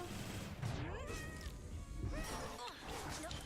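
A cat meows in the video game Hades II with rising and falling cries amid dense, loud combat effects and bursts of game noise.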